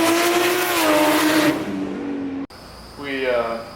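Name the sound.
800 WHP single turbo BMW N54 335i accelerating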